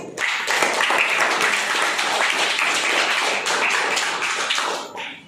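Children applauding loudly during a classroom quiz game, a sustained flurry of quick overlapping claps that starts abruptly, keeps an even intensity for about five seconds, then stops.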